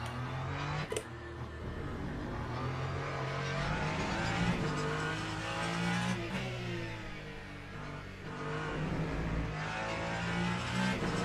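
Ferrari 499P hypercar lapping Fuji in Le Mans Ultimate, its engine droning loud and steady with shifting pitch as it accelerates and brakes, plus a sharp thump near the start.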